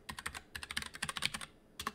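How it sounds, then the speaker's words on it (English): Rapid typing on a computer keyboard, close and crisp, with clustered bursts of clicking keystrokes, a brief pause, then a few more taps. "my typing is all over the place today"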